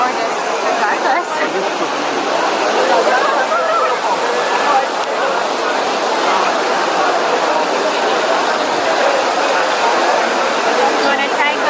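Water splashes and rushes steadily at a large fountain in Rome, a dense, continuous wash of spray heard close and loud throughout, with a voice speaking over it.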